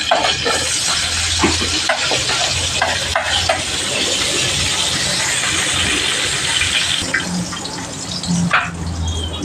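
Ingredients sautéing in a pan for Filipino beef laoya: a steady close sizzle with frequent stirring scrapes and clinks running throughout, with no talking.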